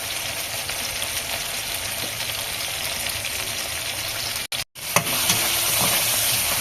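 Chopped tomato with turmeric and salt sizzles steadily in a hot pan, a constant close frying hiss broken by a brief scrape of stirring and a short gap.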